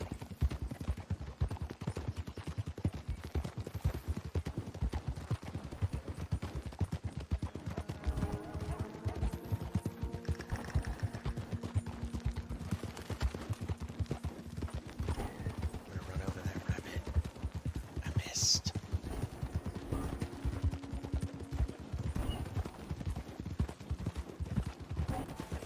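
Horse hooves clip-clopping in the Red Dead Redemption 2 video game, a fast steady galloping rhythm running throughout with a few brief faint calls and a soft background bed.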